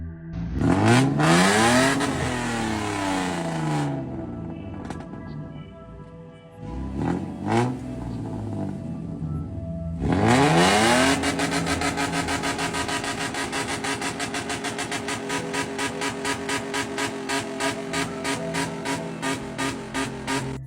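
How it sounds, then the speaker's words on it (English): A small truck stuck in mud revs hard in repeated bursts that rise and fall as the wheels spin. After that it settles into a loud, steady, rapidly pulsing engine drone with no voices. "The engine roars and the mud splashes, but the truck is trapped like it's glued to the ground."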